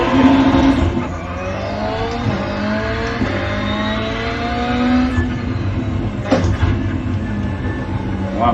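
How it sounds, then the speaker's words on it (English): A rallycross car's engine revs and shifts through the gears on a qualifying lap, loud and close, with rising and falling pitch sweeps, a couple of sharp bursts and steady road and wind roar throughout. "I'm just trying to rev the engine up, going to gear."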